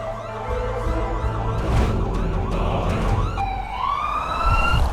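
An ambulance siren wails loudly and close by, its tone sweeping up and down, then rising into a sharper climbing wail near the end.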